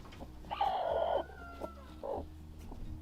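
A broody hen on a farm clucks in a short loud burst, then gives a quieter cluck a moment later, with faint background fowl sounds.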